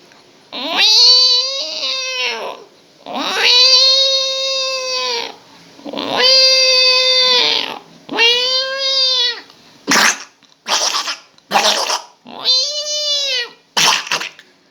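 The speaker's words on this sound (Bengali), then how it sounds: "বিড়াল যদি ডাকে, মেয়ে বিড়ালটা ছেলে বিড়ালটা কিরকম ডাকে" A cat meows repeatedly in long, drawn-out cries, then several short quick meows toward the end, close and loud with no other sounds.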